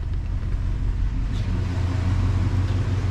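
A 1965 Cadillac Deville V8 is revved to bring it up to temperature while chasing an overheating fault; a steady, loud low rumble holds with slight swells and no speech.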